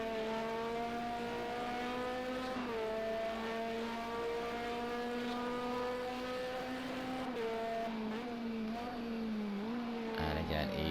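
A GT1 race car in a racing video game screams around Silverstone, engine note rising and dipping through gear changes as it brakes from Brooklands into the tight Luffield right-hander, a sustained high whine with a commentator talking over it.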